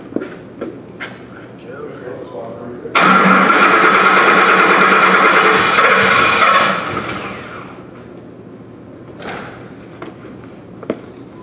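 A 2004 Ford F-150 with a 5.4L engine and a stall/no-start fault cranks over in a steady loud whir for about four seconds before fading, with someone talking around it.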